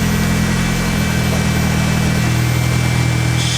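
A turbocharged Honda Integra engine idles with the AC compressor switched on, giving a steady, close, low-pitched hum with an even, unbroken drone throughout.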